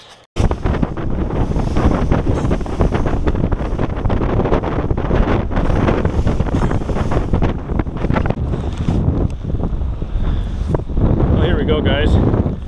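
Constant heavy wind buffeting the microphone outdoors while musky fishing in Ontario, a loud rumbling roar that runs nearly the whole time with a brief quiet start.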